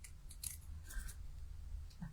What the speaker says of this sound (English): Sometimes I can't even get the scissors to work.